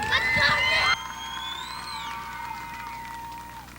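A big speedway crowd cheers and whoops for the race winner, loud and dense at first, then dropping to a steadier roar of shouting and applause with voices mixed in.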